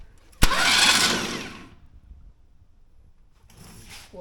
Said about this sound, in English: Let's see if the starter cranks.